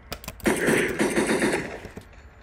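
A gun in the Unturned video game fires a rapid automatic burst, a couple of sharp lead-in shots followed by a dense, loud stream of gunfire lasting over a second before cutting off, with no talk over it.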